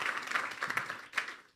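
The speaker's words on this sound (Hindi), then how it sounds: "तो ज़ोरदार तालियां बजाएंगे यस्सु के जलाल के लिए" An audience at a Good Friday church service claps in a brief burst of applause that fades, then briefly swells again before stopping.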